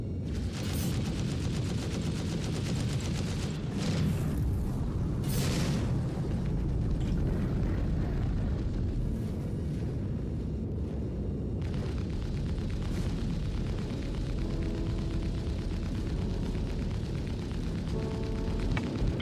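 Ship weapons in Star Citizen pour sustained fire onto a Starfarer, a dense, continuous barrage of loud blasts and bursts that runs unbroken for nearly twenty seconds.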